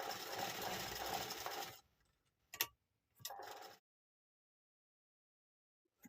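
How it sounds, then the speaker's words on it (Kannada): A sewing machine stitches lining fabric onto the front of a blouse, a steady close whirring run that stops abruptly, followed by two short bursts of stitching and a faint click at the end. "ಇವಾಗ ಲೈನಿಂಗ್ನ ಇಟ್ಟು ಸ್ಟಿಚ್ ಮಾಡ್ಕೋಬೇಕು ನೀಟಾಗಿ."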